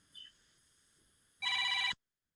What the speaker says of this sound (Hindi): फोन का बहुत जोर से आवाज आ रहा है।